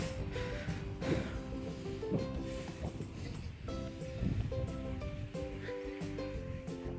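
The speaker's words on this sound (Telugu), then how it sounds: "మంచి గాలి వస్తుంది" Breeze at a hilltop viewpoint near a full reservoir in Srisailam, heard as a constant, full-bodied rush of wind that stays steady and close for the whole stretch, with faint background sounds beneath.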